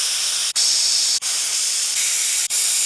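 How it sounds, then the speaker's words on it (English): Compressed air hisses in loud, continuous bursts as it blows out the carburetor jets of a Craftsman mini-tiller, cut by three short pauses. "Next, we're going to shoot all these parts with a little bit of air."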